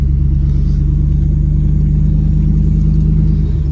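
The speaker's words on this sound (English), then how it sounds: "Right now we're gonna go take it on a little test drive, see how it handles with the bumps" Pickup truck on new wheels during a test drive, heard from inside: a loud, steady low engine rumble and road drone fills the cabin, with no talking.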